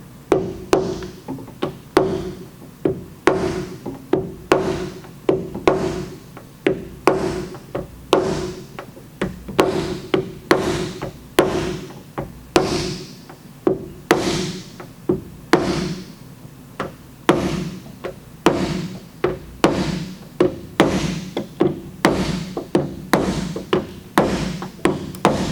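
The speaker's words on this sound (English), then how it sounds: "We use the red Slappy and the body hammer from our collision level 1 kit." A body hammer and a red Slappy tap a dent out of a Toyota RAV4 liftgate during glue pull repair, giving a long run of sharp, evenly paced metallic knocks, close and loud, with no talk.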